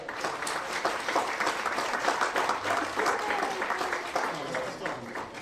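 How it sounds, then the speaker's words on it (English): A round of applause at a 1962 high school class reunion, a moderate crowd clapping steadily for several seconds, fairly distant and even, with some voices mixed in. "Let's give her a round of"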